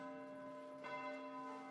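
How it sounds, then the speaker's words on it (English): Church bells ring out in the video game Foundation, a sustained metallic tone with a fresh strike partway through, fairly quiet and with no talking. "Hear the church bells ring."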